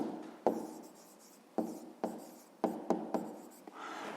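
Chalk or a marker writes on a classroom board in a math lesson, several short sharp taps and scratching strokes spaced irregularly, close and fairly quiet.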